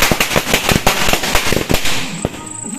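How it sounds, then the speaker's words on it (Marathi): Firecrackers bursting during a Ganesh immersion procession, a rapid run of sharp, loud cracks and pops that rattle off one after another, close by, with no speech. "रुद्र मध्ये मध्ये फटाके फोडत जा मस्त"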